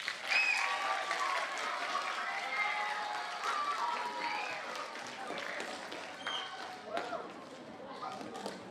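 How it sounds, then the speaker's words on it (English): A school audience of seventh graders at an awards ceremony claps warmly, a thick, sustained wash of applause with scattered cheers and shouts mixed in, gradually thinning toward the end. "Give them a warm round of applause."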